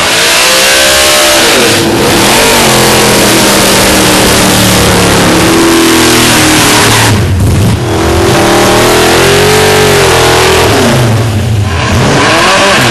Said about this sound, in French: l'exercice aussi spectaculaire que bruyant de la mise à température des pneus, en d'autres termes, le burn